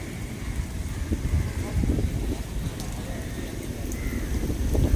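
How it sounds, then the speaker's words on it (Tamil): Heavy rain during a village cricket match, a dense hissing wash of falling rain mixed with low rumbling wind, steady with slight surges, faint crowd voices underneath. "மழை வேறு பயங்கரமாக வருதுங்க"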